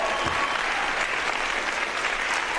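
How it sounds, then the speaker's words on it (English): A school assembly in a TV drama erupts in brief, steady applause for a student receiving an award, the clapping dense and evenly loud for a few seconds. "Round of applause for our most vigilant student, Lenny Brown."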